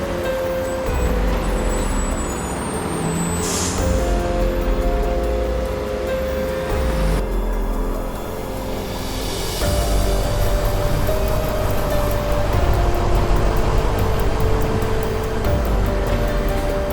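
Animated sound effect of a Pahala Kencana bus driving through slow, congested traffic on the Juwana–Rembang road: a continuous, loud engine rumble with a hiss of air brakes, tonal horn-like notes and shifting road noise, without talking.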